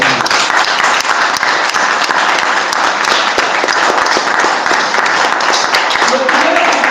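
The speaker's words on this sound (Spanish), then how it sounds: "Vamos a darle un fuerte aplauso al Señor." A church congregation breaks into loud, sustained applause, dense clapping from a large crowd filling the room without pause, with voices mixed in.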